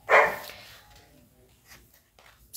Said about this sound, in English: Sorry, that was my brother-in-law's dog.